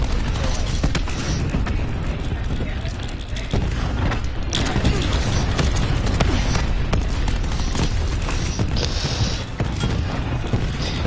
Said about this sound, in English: Throwing cluster grenade. Oh yeah. Boom time. Cluster grenade.